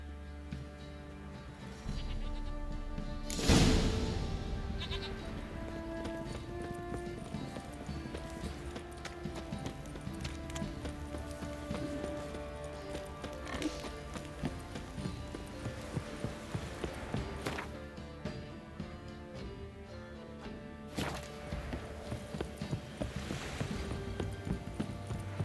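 Roach, a horse in the video game The Witcher 3, gallops with a rapid, rhythmic clip-clop of hooves that runs continuously over a low musical and ambient backdrop, with a sharp burst near the start.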